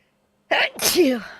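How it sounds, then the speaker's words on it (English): A single loud sneeze bursts out after a moment of silence, a sharp airy blast followed by a falling voiced tail. "sorry guys, I'm gonna sneeze"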